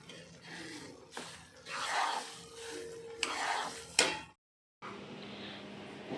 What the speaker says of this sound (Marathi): थोडा वेळ अजून मी हे रवा छान असं भाजून घेते